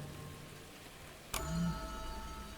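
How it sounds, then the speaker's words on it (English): Rain on a rooftop at night, a steady soft hiss of dense drops, then a sudden sharp crack and a louder, fuller wash of rain with faint tonal ringing underneath, close and continuous. "You arrive at the rooftop as rain patters within the shadows all around"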